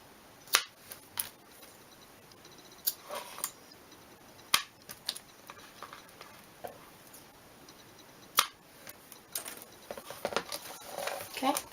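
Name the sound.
cutting off excess faux leather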